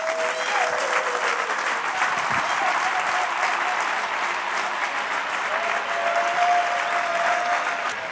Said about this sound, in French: Nous allons l'accueillir sous vos applaudissements.